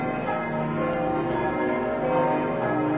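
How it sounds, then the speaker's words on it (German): Church bells ring in Bludenz on an evening in the Montafon region, a steady overlapping peal of sustained tones at moderate distance, with no voices over them. "Die Glocken läuten"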